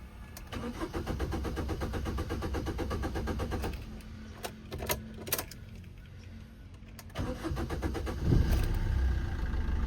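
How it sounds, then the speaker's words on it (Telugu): Maruti Swift VDI diesel, a 2013 model low on fuel, cranking with a rapid rhythmic churn before catching, then settling into a close diesel idle with a few clicks and a brief rev at the end. "లో ఫ్యూల్ ఉంది అందుకే లేట్గా స్టార్ట్ అయితే అయింది సార్ అంటే ఎటువంటి స్టార్టింగ్ ట్రబుల్ అయితే లేదు"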